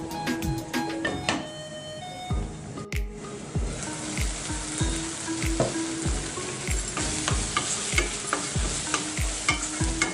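Tomatoes with salt cooking in a pan under a lid, a continuous sizzle broken by rapid ladle clinks and scrapes early on, then a steady crackling simmer.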